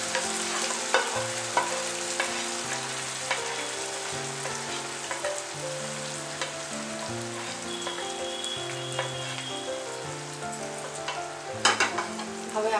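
Caramelized sugar being stirred into a halwasan mixture in a pan for Khambhat-style halwasan, a steady bubbling, sizzling scrape of the spoon with low rhythmic cooking tones running continuously and fairly close throughout.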